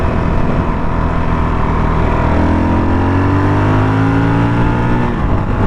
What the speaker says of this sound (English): she just likes to rip through gears